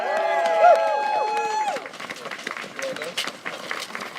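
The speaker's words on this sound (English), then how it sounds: "round of applause for CJ, please" Crowd at an outdoor rally breaking into scattered applause and cheering after a whistle-like tonal sweep fades, claps irregular and mid-distance, with some voices mixed in.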